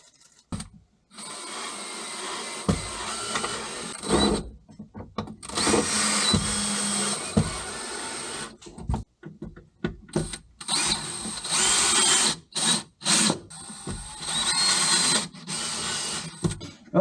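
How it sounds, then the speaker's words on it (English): A power drill backing screws out of a Can-Am X3 side-by-side, heard as repeated close, loud whirring bursts of varying length separated by short pauses and quiet handling noises. "let's get the screws out."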